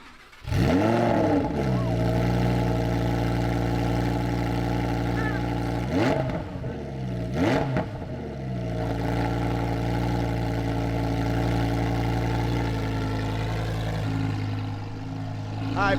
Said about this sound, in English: This is a V10, baby. Can I hear it? Yeah, he's gonna turn it on.